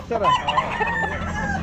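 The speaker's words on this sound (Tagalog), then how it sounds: "Ayun, maraming manok to, sir." Roosters and hens at a Baliwag pet market, Kanawayon breed, crow and cluck close by in a short burst, while someone speaks briefly over the birds.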